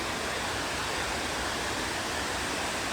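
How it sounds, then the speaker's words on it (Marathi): A loud, unbroken roar of rushing water fills the scene, broadband and steady, pouring through Kamthe Dam in the Konkan, with no voices. "सगळा पाण्याचा वगैरे आवाज येईल तुम्हाला"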